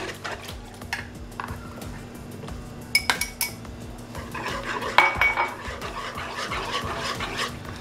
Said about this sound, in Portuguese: Agora vamos misturar bem aqui essa farinha.